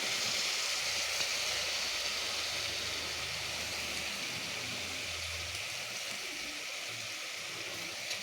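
Pabda fish slide into hot spiced oil in a home kitchen pan, setting off a steady, dense sizzle that hisses evenly and close throughout with no talking.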